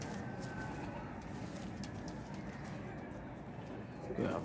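Pigeons cooing on a rooftop loft, soft low coos repeating under a steady outdoor background hum, faint and somewhat distant, with a slightly louder burst near the end.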